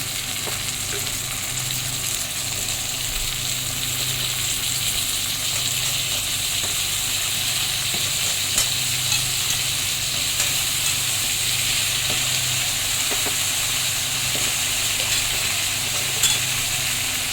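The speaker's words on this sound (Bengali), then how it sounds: "আলুগুলো ভালো করে ভেজে নিয়ে ফিরে আসছি।" Cut potato pieces fry in hot oil in a wok, giving a dense, even sizzle that holds steady throughout at close range, with no speech over it.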